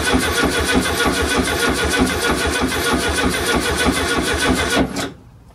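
A Volkswagen Type 1 air-cooled engine runs loud and close with a steady, rapid mechanical chatter and a dense rumble, then cuts off abruptly near the end, leaving quiet.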